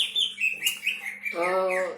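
A canary chirps and trills in short, bright bursts, its song rising into a fuller warbling phrase toward the end, heard fairly close with faint background voices.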